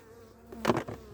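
Honeybees hum close by at their hive in a brief buzzing swell that rises and fades within a second.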